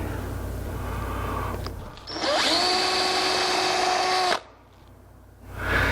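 A power drill boring into wood whines up to a steady high pitch for about two seconds, then stops, heard close and loud over a background hum.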